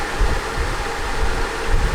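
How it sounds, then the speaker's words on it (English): An electric fan runs steadily in a hot garage during an oil change on a Focus RS after track racing, giving a constant close broadband whoosh with low rumbling swells and no speech. "apologies for the noise. We got a fan going."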